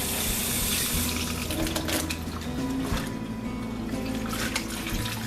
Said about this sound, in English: I'm just going to want to rinse this real quick